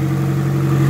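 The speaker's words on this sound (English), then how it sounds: "Give that a quick rev again." A Nissan SR20 engine fitted with an equal length manifold and divorced downpipe runs loud and close, a steady strong droning tone with no talk over it.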